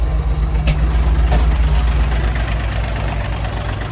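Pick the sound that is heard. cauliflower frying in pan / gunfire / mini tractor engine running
mini tractor engine running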